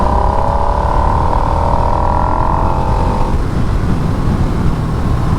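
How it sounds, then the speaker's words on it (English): A new Harley-Davidson Nightster with a liquid-cooled engine runs up close, a loud steady engine drone that holds a rising tone for about three seconds before settling to a rough idle. "listen to the sound the engine makes"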